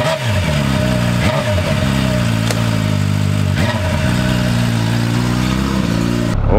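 An MV Agusta F4 superbike engine runs loud and close throughout while riding on a road, a steady mid-pitched roar with repeated revving surges and gear changes, cutting off abruptly at the end.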